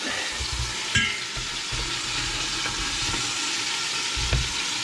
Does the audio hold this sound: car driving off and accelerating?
no